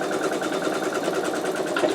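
An embroidery machine sews a placement stitch on an in-the-hoop wallet, giving a close, rapid, evenly pulsing mechanical chatter without pause.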